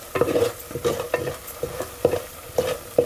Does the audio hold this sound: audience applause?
no